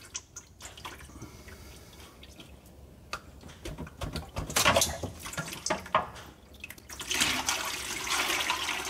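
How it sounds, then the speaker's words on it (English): Transmission fluid drains from the pan of a 2000 Dodge Ram, with irregular drips and splashes of liquid close by that grow into a heavier pour toward the end. "so it looks like the excess is drained out"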